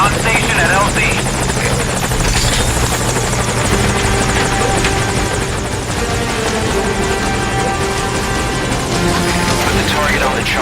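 A helicopter in the video game Metal Gear Solid keeps up a loud, steady rotor thrum and engine whine for the whole stretch, close and unbroken.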